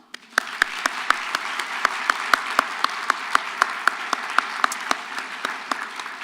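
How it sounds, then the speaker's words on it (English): A graduation audience at a university teacher education convocation breaks into applause: a thick, sustained patter of many hands, with regular sharp claps from one nearby person punctuating it throughout. "Graduates, if you wouldn't mind joining me in an applause for them."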